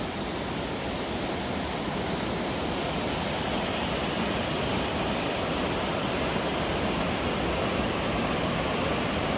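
Waterfall in a Pacific Northwest rainforest, a steady, dense roar of falling water that stays loud and unchanging throughout, with no voices.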